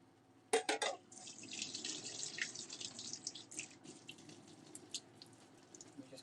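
Tap water pours into a kitchen sink to rinse a turmeric-stained pan, a steady close splashing stream after a few brief bursts, with no voices.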